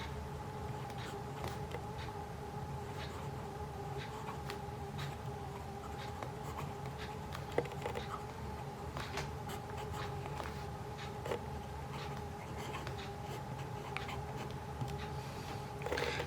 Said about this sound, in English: So now let's write with this pen, Jinhao x159.